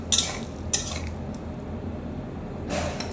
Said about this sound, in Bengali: জল দিয়ে আবারও ভালোভাবে নেড়ে নিচ্ছি।